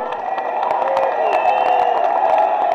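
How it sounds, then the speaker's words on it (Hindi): A rally crowd in a stadium applauds and cheers steadily, a dense continuous wash of clapping with whoops rising above it, loud and close throughout. "जोरदार तालियां गौरव कारी जी के लिए"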